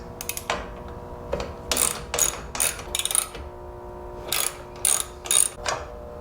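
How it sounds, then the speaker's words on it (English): A hand ratchet works loose 8mm bolts on the rear fender of a Honda Rebel 1100 motorcycle, sounding in several close, loud bursts of rapid clicking separated by short pauses. "all we should have to do is undo these bolts right here on each side, and it looks to be about an 8mm."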